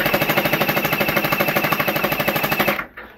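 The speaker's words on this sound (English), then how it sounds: "that is an amazing rate of fire for such a simple little blaster" A Mac 10 gel blaster SMG fires on full auto, a fast, even rattle of shots lasting close to three seconds before cutting off abruptly.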